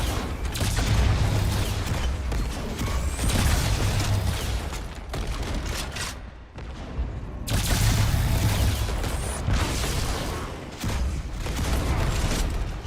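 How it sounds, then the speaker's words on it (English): Many explosions in the video game Halo 2 roll and boom continuously, with dense rumbling blasts and crackling gunfire filling the mix, dipping briefly midway before surging back. "there's so many explosions just happening."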